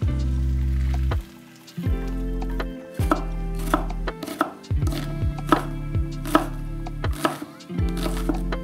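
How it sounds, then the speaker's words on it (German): A knife dices an onion on a cutting board, crisp rhythmic taps in quick bursts with brief pauses, close and clear. "würfle hier schon mal nebenher die Zwiebel"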